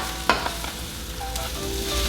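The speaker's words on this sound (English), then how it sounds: "I like to use a large skillet, because the more surface area we have, the better for getting the rice nice and toasted" Rice toasting in a large skillet for risotto, giving a steady broadband sizzle with a sharp clink of a utensil early on and soft stirring scrapes, close and without voices.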